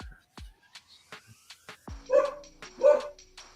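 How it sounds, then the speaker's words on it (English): A dog barks from across the street, two clear barks in the second half following a series of sharp knocks or taps, heard at moderate distance in an otherwise quiet setting. "That is him barking across."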